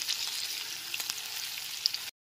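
Chopped ginger and garlic fry in a pan over a medium flame, giving a bright, steady sizzle with a few small crackles, close and quiet, ending abruptly.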